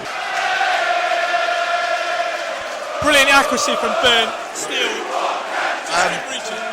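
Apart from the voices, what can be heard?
football crowd cheering after a goal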